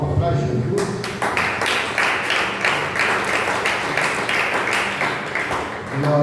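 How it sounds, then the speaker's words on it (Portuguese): Church congregation clapping for Jesus during worship, a loud room of rhythmic hand claps in steady pulses, joined by voices and background sound in a reverberant hall. "dando uma salva de palmas para Jesus"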